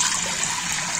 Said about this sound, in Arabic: باش نصب إيترا ونص ماء